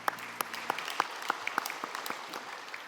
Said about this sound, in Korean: 우리 하나님께 영광의 박수로 찬양합시다